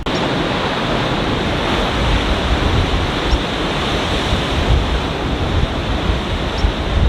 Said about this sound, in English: these waves are crashing against the rock, and then they're causing this ginormous mist